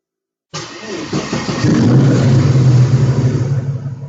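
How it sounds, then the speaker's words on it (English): An EFI-equipped car engine cranks and fires after a moment of silence, then runs loud and close with a rising rev and a steady, rough mid-pitched drone. "I can fire the engine and show you a few stuff that you can do before you go to the final tune."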